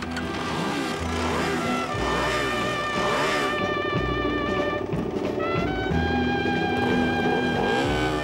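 Loud, continuous KTM Super Duke sport motorcycle engine roar rising and falling as the throttle is blipped repeatedly, with a harsh mechanical growl throughout.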